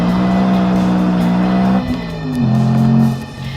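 A BMW M3 with a 4-liter V8 that revs to nearly 9,000 RPM screams loudly on a race track, its high engine note dipping briefly between gear changes and climbing again.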